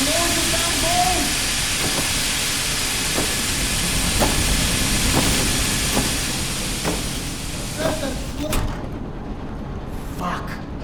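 Steam hissing from pipes in the video game Metro Awakening, a broad continuous hiss that stays loud and then cuts off near the end, with a few knocks and a voice speaking underneath.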